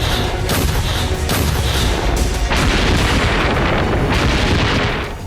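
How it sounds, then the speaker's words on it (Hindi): Artillery shelling in the Russia-Ukraine war: a loud, continuous roar of heavy booms and rumbling blasts overlapping one another, dense and unbroken throughout. "तोपें भीषण बमबारी कर रही हैं"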